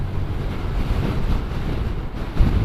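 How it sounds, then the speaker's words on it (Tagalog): Strong coastal wind buffets a microphone during a motorcycle ride along a coastal road in the Philippines, a continuous loud low roar with gusts and no talk. "Nandito na tayo sa coastal road and malakas yung hangin."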